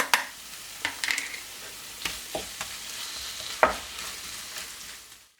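Ground meat browns in a hot pan, seasoned with salt, pepper and oregano, giving a steady close sizzle broken by scraping stirs and occasional utensil taps, with no voices.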